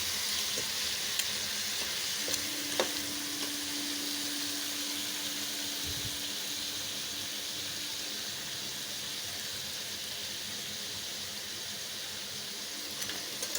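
Crab curry frying in hot oil in a home kitchen, giving a steady, bright, hissing sizzle throughout with a brief utensil clink early on and no talk.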